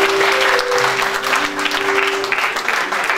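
A chapel congregation at a Monday worship gathering applauds on request, a strong, continuous burst of many hands clapping with a sustained musical tone humming underneath and little speech.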